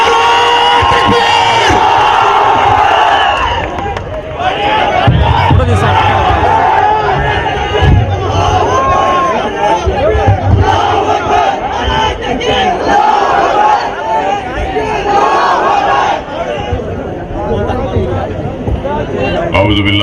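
Large political rally crowd loudly chanting Takbir slogans in unison at a politician's speech event, repeated roaring shouts mixed with a dense babble of voices, continuous and very loud.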